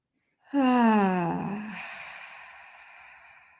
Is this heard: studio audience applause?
no